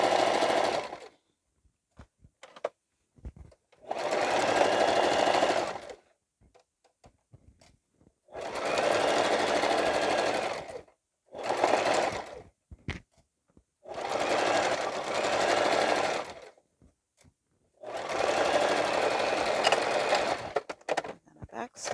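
A sewing machine stitches the seam of a reversible bucket hat in six steady runs of several seconds each, separated by quiet pauses with faint handling noises.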